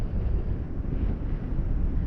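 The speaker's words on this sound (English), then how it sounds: "it's just too windy to get out there" Steady, strong wind roars and buffets the microphone in a constant low rumble, with no voices, beside Loch Laidon near Rannoch Station.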